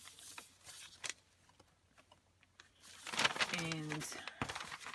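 Paper handled and crinkled up close while making a junk journal cover, soft scattered rustles building to a louder burst of crinkling near the end, with a quiet voice in between.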